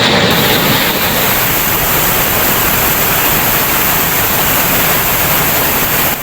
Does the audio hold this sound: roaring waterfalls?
yes